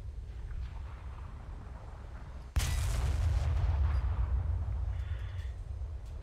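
Naval guns of a warship in a video game fire high-explosive shells: one sudden loud blast, then a sustained deep rumble. A faint tone hovers behind.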